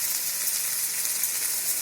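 Ginger-garlic masala with salt and turmeric sautéing in a pan gives off a steady, loud, close hiss and sizzle that runs unbroken and alone.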